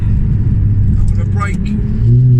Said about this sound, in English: to brake hard now